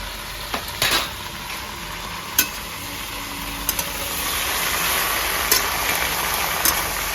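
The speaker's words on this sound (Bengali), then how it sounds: "প্রায় ভাজা হয়ে গেছে আমার ওই সিম আর আলু।" Beans and potatoes frying in oil with salt and turmeric, a steady sizzle in the pan broken by a few sharp knocks and scrapes from stirring.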